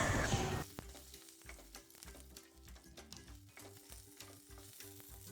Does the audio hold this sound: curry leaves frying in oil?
yes